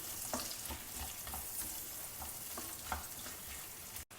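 Sliced onions and cumin seeds sautéing in oil in a pan, a steady close hiss with periodic stirring scrapes, no speech.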